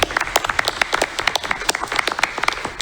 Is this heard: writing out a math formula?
no